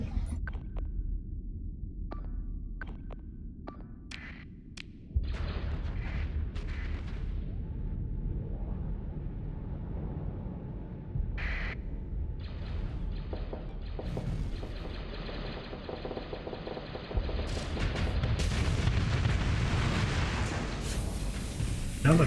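Missile explosions and weapon impacts in a Starsector space battle, with scattered sharp bursts early and then denser, louder blasts and rumbling that build toward the end.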